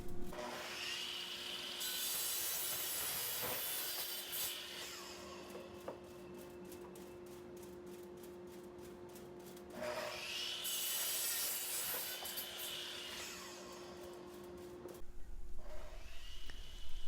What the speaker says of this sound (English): Cutting the support brackets is easy on a miter saw or a chop saw.